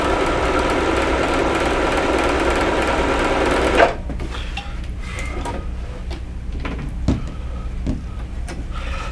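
Sewing machine stitching quilt fabric pieces in a continuous chain without cutting the thread, running steadily and loudly close up for about four seconds, then stopping and leaving quieter handling and clicking sounds.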